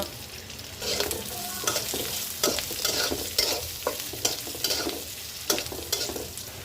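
Chopped onion and green chili fry in a pan with browned garlic while being stirred briskly. Repeated scraping strokes land over a constant close sizzle, with no voices.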